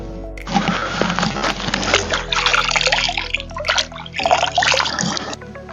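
Clear river water at Stone River splashes and trickles close by, a busy bubbling wash with brief gaps as the flow shifts.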